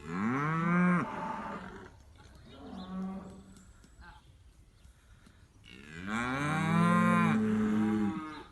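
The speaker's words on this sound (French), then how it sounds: "Coucou les vaches." Cows mooing in a field near Rouen, two long, loud, close lows split by a shorter moo and a quieter gap.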